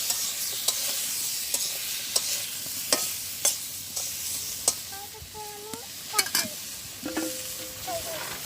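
Pointed gourd frying in oil in a pan, a steady close sizzle with regular stirring clicks and scrapes and a few brief higher squeaks.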